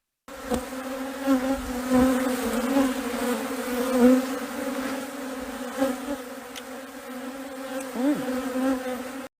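Steady droning buzz of many bees swarming around a woman eating honeycomb, close and continuous with slight wavering pitch and no speech.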